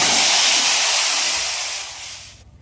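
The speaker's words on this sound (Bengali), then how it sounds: "কেটে রাখা সবজিগুলো সব একসাথে দিয়ে ভেজে নেব।" Chopped vegetables go into a hot pan all together and fry with a loud, dense hiss that starts at full strength and slowly eases off before stopping abruptly.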